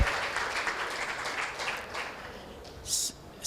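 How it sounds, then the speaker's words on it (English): Audience applause and clapping for Bhavani Foundation at a blood donation camp, a dense steady crowd of hands that carries on for several seconds before tapering, with a brief louder burst near the end. "give a big salute and big claps for them for this noble"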